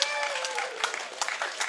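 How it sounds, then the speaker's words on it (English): Crowd applause rises under a voice that fades out early, leaving steady clapping that continues to the end. "A round of applause for Mario Tambakis."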